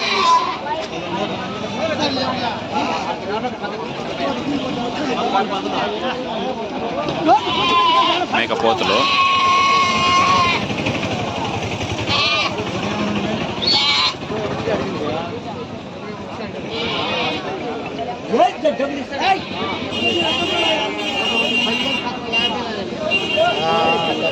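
Goats bleat repeatedly through a busy outdoor crowd, their calls mixed with continuous chatter and traffic noise at a lively Sunday sheep and goat market in Pileru.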